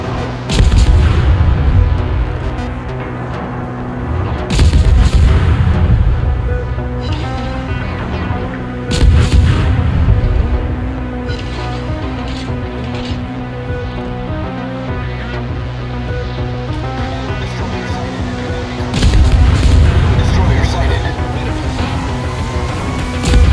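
Guns of the German cruiser Kolberg firing at the destroyer V-25 in a naval video game, loud booming salvos landing near 0, 5, 9 and 19 seconds over a steady rumbling engine and sea bed, with no talk.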